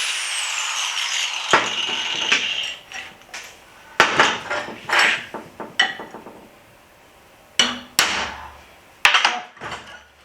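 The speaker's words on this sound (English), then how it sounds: "then drive them out with a center punch" A hammer strikes a center punch to drive nails out of a horseshoe, sharp metallic clanks arriving in irregular bursts and single blows, each ringing briefly before fading.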